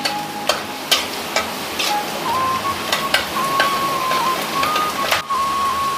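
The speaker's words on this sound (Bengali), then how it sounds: "রসুন লাল লাল করে ভাজা হয়ে গেছে" Garlic frying in hot oil with dried red chillies, bay leaf and panch phoron gives a steady, close sizzle broken by sharp pops and crackles, with a faint thin whine running through it.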